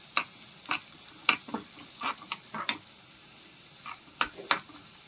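Cumin seeds and a pinch of asafoetida sizzling in hot oil for dal tadka, heard as a quiet crackle with scattered sharp pops and spits, close by and without talk.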